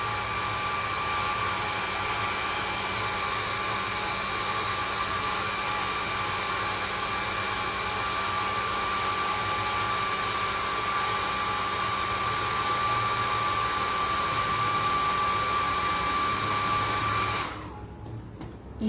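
A handheld dryer blows a loud, steady whining roar over a craft piece in an atelier, running unbroken for about seventeen seconds before it switches off abruptly.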